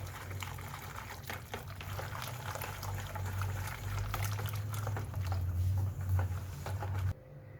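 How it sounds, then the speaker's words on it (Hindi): Peach juice pulp and lemon juice are whisked together in a bowl, giving a steady wet swishing and sloshing with light splashes over a low hum that runs throughout, ending abruptly. "अब मैं विस्कर से इसको मिक्स करूँगी।"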